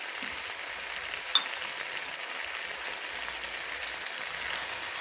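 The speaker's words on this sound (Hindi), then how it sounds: "और अच्छे तरीके से हम इन तीनों सब्जियों को भूनेंगे।" Mixed vegetables with peas fry on a tawa, giving a faint, even sizzle with soft crackle that holds steady throughout, with one small click partway in.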